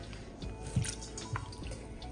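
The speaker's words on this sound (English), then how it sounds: "I'm just going to sort of press the butter while it's still in the cloth around in the water." Homemade butter wrapped in cloth is pressed in a bowl of water, giving soft wet squelches and a couple of drips, quiet and close, with no talking.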